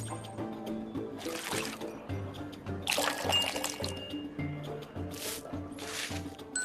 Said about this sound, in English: Add a spoon of salt, some water, and a splash of sourdough.